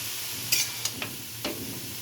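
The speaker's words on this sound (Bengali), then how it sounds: "বাঁধাকপিটা এবার ভাজা ভাজা হয়ে গেছে" Cabbage frying in a pan with fish head, a low steady sizzle broken by a few sharp scraping stirs and clinks, close and quiet with no talking.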